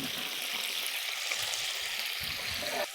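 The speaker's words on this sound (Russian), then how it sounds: "Берем наши крылья. И обжариваем в острой" Chicken wings sizzle in a pan of hot spicy glaze, a steady close crackling hiss that runs throughout with light stirring noises.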